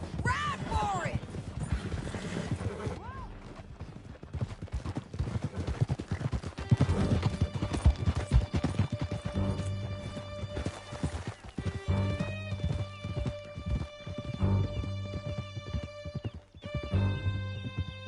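Horse hooves gallop through a canyon in the Red Dead Redemption 2 video game, a rapid, continuous clip-clop with occasional whinnies and a musical backdrop throughout.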